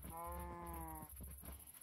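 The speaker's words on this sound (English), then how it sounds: "It's too many cows at once." Cows mooing in modded Minecraft 1.16.5, one long drawn-out moo followed by a few shorter lowing calls, steady and fairly close over a low background hum.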